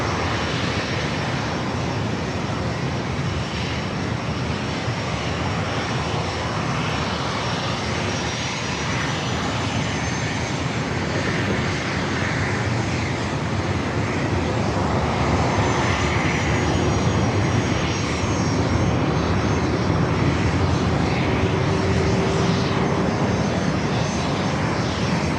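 A heavy Boeing 767 takes off at San Diego airport, its engines a loud, sustained roar that swells and shifts over nearly half a minute, with no talking.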